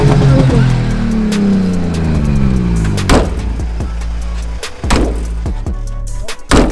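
A rare retro car, compared to a Škoda 105, has its engine revved hard nearby, the pitch sweeping up and down, then settling into a loud idle broken by sharp clunks and bangs.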